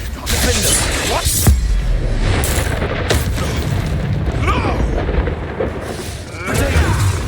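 Explosive spells burst in the Hogwarts Legacy video game, with loud booming blasts and crackling impacts layered over dense, rumbling combat noise throughout.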